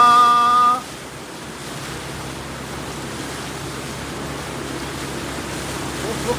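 Floodwater rushes in a steady, broadband roar during heavy rain in Negros Occidental, continuous and fairly loud after a brief tonal beep at the start.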